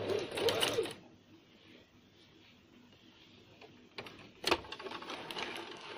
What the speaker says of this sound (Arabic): وبعدين ببدأ أخيط